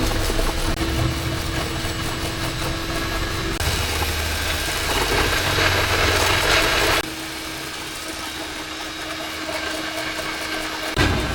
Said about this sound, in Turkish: Şimdi makineyi hazırladı. Çırpma işlemi.